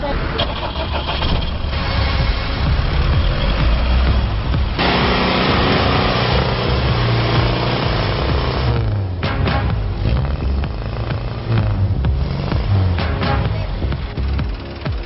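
A 2007 Isuzu Crosswind engine cranks and catches, then runs with a steady rumbling idle that rises and settles, loud and close throughout.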